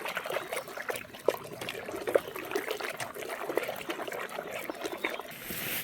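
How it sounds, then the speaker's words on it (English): Water stirred in a dye bath mixed with dish detergent for dyeing a tent rainfly with Rit DyeMore Synthetic, giving a steady close sloshing and trickling wash throughout, with no talking. "Give that a good stirring around."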